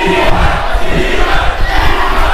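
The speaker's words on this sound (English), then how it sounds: "the crowd chanting firmly in support of Black Arrow" Wrestling arena crowd chanting in unison for a wrestler at a Singapore championship match, a loud, dense roar of massed voices filling the space with steady rhythmic surges.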